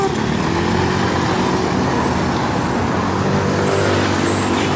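Steady roar of street traffic in Istanbul's Eminönü amid construction work, cars and heavier vehicles passing continuously and fairly loud, with no clear voices.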